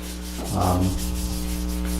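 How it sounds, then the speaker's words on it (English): Steady rubbing of sandpaper over wood wet with an oil finish slurry, a continuous scratchy back-and-forth texture with a low hum underneath. "So as you sand it, you'll see it starting to dry off"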